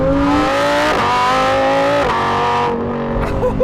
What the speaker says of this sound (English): So let's experience this engine and the noise it does make.